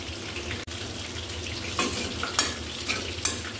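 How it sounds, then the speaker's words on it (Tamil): Dried fish frying in oil in a pan with green chillies, a steady close sizzle and crackle with a few louder stirring scrapes. "இது கொஞ்சம் நேரம் இந்த எண்ணெயில் நல்லா வதங்கணும்."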